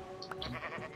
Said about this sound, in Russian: Подожди, здесь овца ходит.